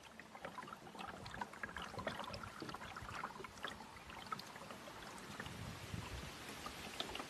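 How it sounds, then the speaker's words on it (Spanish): A mokoro, a flat-bottomed pole-propelled boat, gliding through reed-lined water channels in Botswana, giving a soft continuous rustle and faint trickling and lapping, quiet and steady throughout. "El sonido del mokoro al deslizarse sobre las aguas es lo único que perturba la asombrosa calma"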